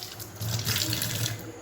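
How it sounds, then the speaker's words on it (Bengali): Water poured out into a kitchen sink while making chicken pakora, a short splashing gush that swells after a quieter start and then eases slightly, with no talking. "জলটা ফেলে দেবো।"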